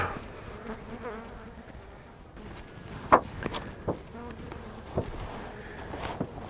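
Honey bees buzz steadily around a beehive outdoors, a close, continuous hum with a few louder individual passes and faint bumps and footsteps mixed in.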